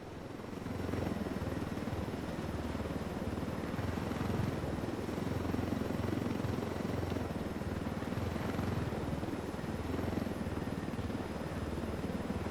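Helicopter rotor and engine noise in Ghost Recon Wildlands, a steady loud beating drone that holds without a break for about twelve seconds, with no talk over it.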